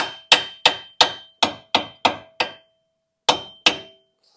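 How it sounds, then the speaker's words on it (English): A hammer striking the steering knuckle of a 2013-2019 Ford Escape to loosen the front strut: nine sharp metallic clanks, seven in a steady rhythm, then a pause and two more, close and loud with ringing decay. "Then I'll just hit around the knuckle here to try to break it loose."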